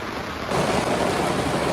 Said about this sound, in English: This rain is torrential.